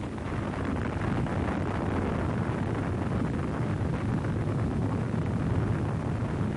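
Atomic bomb blast over Hiroshima, heard as a continuous, dense roaring rumble with steady loudness throughout, broadband and wind-like, without distinct separate bangs.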